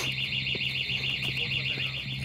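Alarm going off, a steady high electronic warble repeating over a low pulsing tone, continuous and fairly loud.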